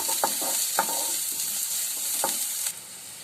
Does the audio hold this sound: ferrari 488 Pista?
no